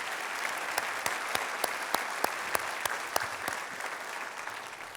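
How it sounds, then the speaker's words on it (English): Audience applause at a sport hall of fame induction ceremony in a hall, sustained even clapping with a few sharp louder claps standing out, moderately distant and fairly quiet, no talk over it. "let's have a round of applause for all of these men,"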